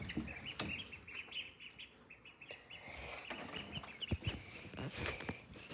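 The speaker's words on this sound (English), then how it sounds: "We have ducks and baby chicks." Farm ducks and baby chicks make repeated high peeping chirps, with scattered quacks and rustling nearby, at a fairly faint level.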